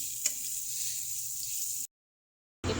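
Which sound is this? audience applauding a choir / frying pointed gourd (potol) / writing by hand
frying pointed gourd (potol)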